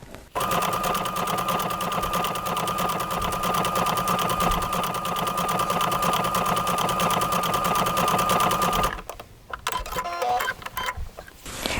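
A sewing machine stitching steadily with its speed dial turned down, giving a rapid, even mechanical whirr and clatter that runs for about nine seconds before stopping, followed by a few scattered clicks and handling noises.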